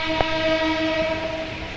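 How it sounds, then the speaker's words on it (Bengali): A departing train sounds a steady, loud horn tone over rumbling wheels, with a brief clank near the start, in heavy rain. "ট্রেন ছেড়ে দিয়েছে"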